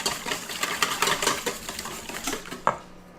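Pie batter of mayonnaise and oil being mixed in a bowl, a rapid rhythmic clatter of utensil against the bowl repeating steadily, ending with a sharper knock, close and alone.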